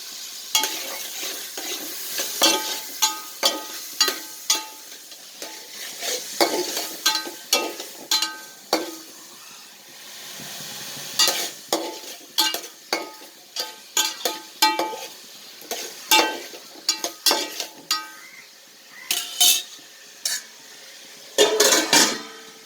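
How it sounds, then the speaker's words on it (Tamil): Tomatoes sauté in a pan for a Kerala-style trevally fish head curry, with repeated scraping and stirring strokes over a steady sizzle, close and fairly loud, with no talking. "தக்காளி நல்லா வதங்கிட்டு இருக்கு"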